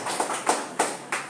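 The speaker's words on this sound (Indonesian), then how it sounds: "Kita beri tepuk tangan untuk kelompok Kur dari lingkungannya." Applause for a church choir at a Catholic memorial Mass: a short burst of hand clapping with a few distinct sharper claps rising above a soft, steady patter, moderately close.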